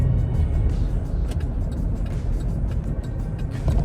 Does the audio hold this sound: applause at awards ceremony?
no